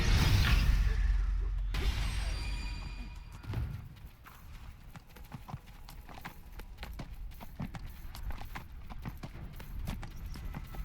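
Hooves clip-clop in a steady trotting rhythm as a horse moves in the video game Neverwinter Online, close and continuous after a brief swoosh at the start.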